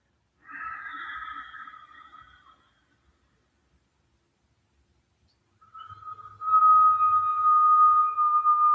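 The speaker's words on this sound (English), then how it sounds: "Bringing air in through a rounded mouth, making a whistle noise" Breathing sounds from a yoga breathing exercise: a soft, airy whistling breath comes first and fades out, and after a quiet pause a second, louder, steadier whistling tone follows and holds.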